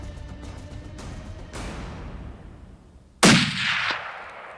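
A single rifle shot on an Alaska brown bear hunt, a sharp loud crack near the end that rolls out into an echoing rumble across open terrain, following quieter outdoor noise.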